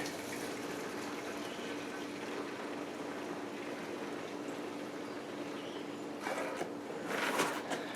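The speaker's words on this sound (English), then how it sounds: "So let me put some fresh fuel in it." Fresh fuel pours into the tank of an old Snapper mower in a steady, close liquid stream, with a brief louder gush near the end.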